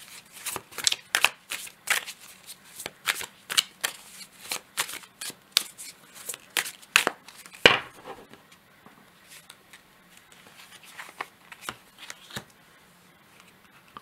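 Tarot de Marseille cards being shuffled and drawn, with close, crisp riffling and slapping bursts repeating in quick succession, then sparser card flicks.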